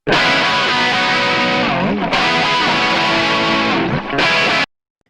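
A distorted electric guitar plays its main tone, loud, dense and sustained, with sliding chord changes and two brief gaps before cutting off cleanly; no voices.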